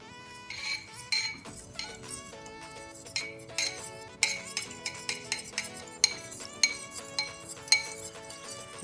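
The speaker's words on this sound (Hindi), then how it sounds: "अब हम लोग इसमें धीरे धीरे करके मिक्स करेंगे इसको" A spoon scrapes and clinks against a pan as corn batter is slowly stirred into sugar syrup for Bombay Karachi halwa, with repeated metallic taps and rhythmic stirring, close and clear.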